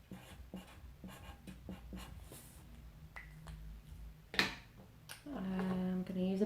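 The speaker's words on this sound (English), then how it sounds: "I'm just going to write a few things down." A pen scratching across paper in short, separate strokes, close and quiet, ending with a voice speaking over it.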